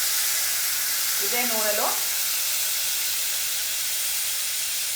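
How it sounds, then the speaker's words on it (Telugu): Tamarind juice poured into hot oil in a pan, a steady loud sizzle and hiss that holds throughout, with a brief spoken phrase near the start. "ఈ చింతపండు రసాన్ని పిప్పి తీసేసి దీంట్లో వేసుకోవాలి. జాగ్రత్తగా వేసుకోండి."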